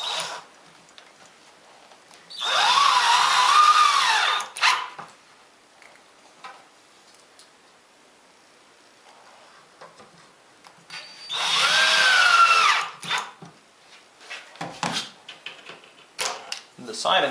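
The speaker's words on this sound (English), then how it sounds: "I can go ahead and drive in the screws" A power drill drives screws into a workshop cabinet, with two loud, whirring bursts of about two seconds each separated by quiet handling clicks and knocks nearby.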